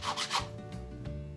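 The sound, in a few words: sanding with a sanding block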